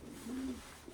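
A pigeon gives a single soft, low coo close by, faint against a quiet outdoor background just after a snowstorm.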